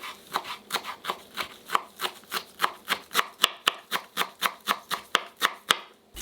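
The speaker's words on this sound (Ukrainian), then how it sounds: "Кріп та петрушку також подрібнюємо." A knife chops fresh dill and parsley on a board in quick, evenly spaced strikes, about three per second, close and crisp, steady throughout with no voices.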